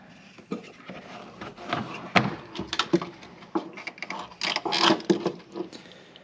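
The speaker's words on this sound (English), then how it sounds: "And we'll pull this out all the way. And then pull this pump out." A Polaris RZR fuel pump and sending unit are worked out of the fuel tank, giving close, irregular plastic clunks, knocks and scraping rattles in bursts.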